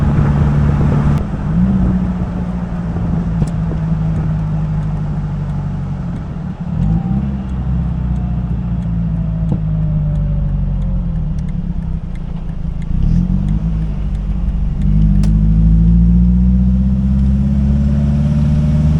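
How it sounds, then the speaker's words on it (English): A turbo-diesel vehicle follows close behind a moving 2004 Jeep TJ 2.4L on the road, its engine drone steady and prominent, with gear-shift dips and rises, no talk. "That is a diesel back there. Heck yeah, I can hear that turbo from here."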